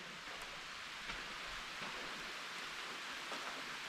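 Steady, even rain hiss fills the scene in the ruined Kayaköy ghost town, Turkey, a soft continuous patter with no talking and only faint scattered drops standing out.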